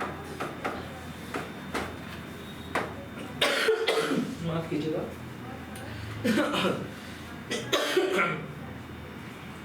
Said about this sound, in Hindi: उस समय खांसी वासी बहुत तेज लगती होगी